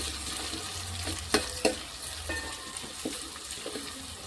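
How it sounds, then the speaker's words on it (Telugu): Onions and garlic fry in a hot pan, a steady broadband sizzle running throughout with a few sharp scrapes and stirring clicks from a utensil, close and fairly loud with no voices. "కొంచెం ఉల్లిపాయలు వేగనిద్దామండి."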